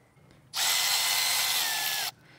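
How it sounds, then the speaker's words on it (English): A power tool fitted with a 5 mm socket spins out the small toothed studs from an XR150L motorcycle footpeg in one loud, steady whir of about a second and a half, close up, with quiet before and after. "to remove the little studs, or I call them teeth, um, it's a five millimeter socket and they just come right out"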